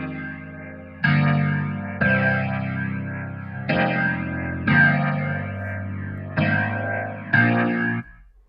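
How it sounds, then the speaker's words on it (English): An organ played through a rotary speaker cabinet with a rotator effect sounds as a series of sustained chords, each starting sharply and carrying a swirling, warbling shimmer, with no talking. "This is the cabinet and rotator."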